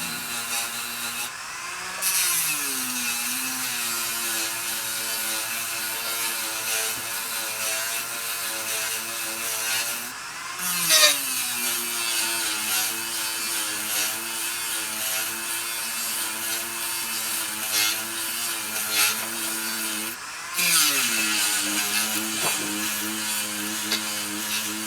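A rotary tool with a 150 grit abrasive grinds into a seashell, carving the rim of a shell bowl: a steady, close whining buzz with wavering pitch that briefly drops out and restarts around the 2, 10 and 20 second marks.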